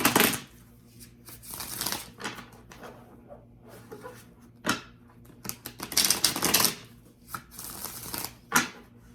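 Tarot cards are shuffled by hand in repeated riffling bursts of papery clicks and slaps, close up and uneven in rhythm, with quiet gaps between bursts and no talking.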